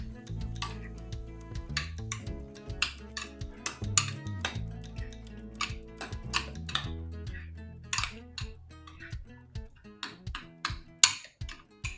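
Dried shrimp is mixed with chaat masala and salt in a bowl, producing a busy run of sharp clinks, scrapes and taps of a utensil against the dish, close and irregular.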